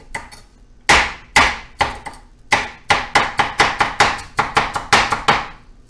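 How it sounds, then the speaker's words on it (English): A knife dices food on a cutting board in a run of sharp, close chops, a few spaced strikes at first and then a quick steady rhythm, with no talk. "let's do a little dicing with this"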